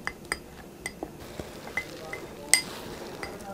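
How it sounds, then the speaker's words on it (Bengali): Raisin paste and corn starch stirred together in a bowl, heard as a series of light spoon clinks and taps against the dish at irregular intervals, close and quiet. "এখন কিশমিশ আর এই কর্ন স্টার্চ ভালোভাবে মিক্স করে নিচ্ছি"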